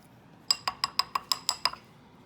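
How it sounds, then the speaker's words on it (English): A whisk rattles against a glass bowl, beating a separated oil and vinegar salad dressing with eight quick, bright, ringing clinks in a steady rhythm, close and clear with no voices. "we're going to give that a little whisk"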